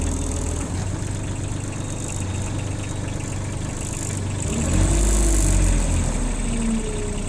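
An excavator's diesel engine runs steadily at idle, close and continuous, then rises briefly in revs with a deeper, louder rumble before settling.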